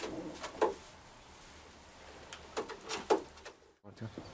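Racing pigeons coo in a flight loft, with soft repeated cooing calls from several birds at close range and a brief scrape or knock near the end.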